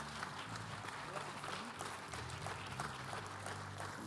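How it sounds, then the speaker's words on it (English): Church congregation applause during a Sunday service, a quiet, steady patter of many hands clapping, with low organ or keyboard tones sustained beneath it. "Can we give them one more hand clap?"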